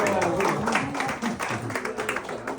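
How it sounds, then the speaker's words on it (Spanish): At a Salvadoran cultural event and book launch in Montréal, a crowd gives brief, fairly close applause, with busy clapping mixed with voices and room chatter. "Un gran aplauso para todos ustedes"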